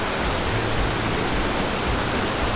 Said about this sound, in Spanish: Luego voy a esta cascada, luego a esta cascada.